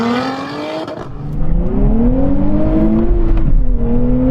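Drag race launch between a Nissan Z, Porsche GT4 RS, Toyota Supra and Lotus Emira: loud, close engines rise hard in pitch through gear changes as the cars accelerate.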